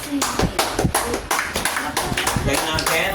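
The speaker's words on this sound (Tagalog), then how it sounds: "Palakpak muna tayo para huwag tayo malambot." A church congregation at a praise and worship service in San Mateo claps hands in a quick, rhythmic beat, loud and close, with voices talking over the claps.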